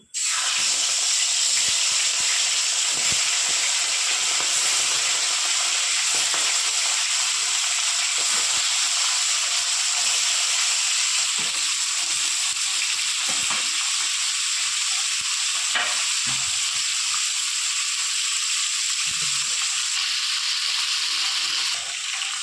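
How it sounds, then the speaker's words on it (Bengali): Barramundi (bhetki) fish bones and head frying in a pan of hot oil, a loud, dense, continuous hissing sizzle that starts abruptly and holds steady throughout, heard close with faint occasional clinks. "বাকি কাটাগুলো আমি উল্টে দিয়েছি। এবার লাল করে ভেজে তারপর আমি তুলে নেব।"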